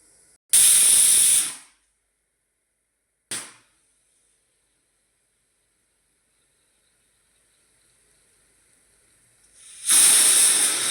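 A pressure cooker cooking rice on a gas stove releases sharp, loud jets of hissing steam: one burst of about a second, a brief puff, then a long silence before another loud blast near the end, with no talking.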